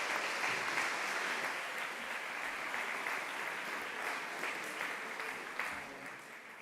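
Audience applause at the close of the SLU-Madrid commencement ceremony, a broad continuous wash of many hands clapping that stays steady throughout and tapers only slightly near the end.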